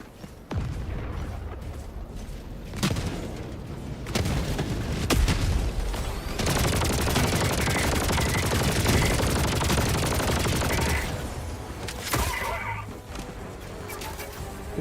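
Rapid automatic gunfire and blasts from the video game Helldivers 2, loud and sustained across the whole stretch with dense bursts and occasional heavier impacts.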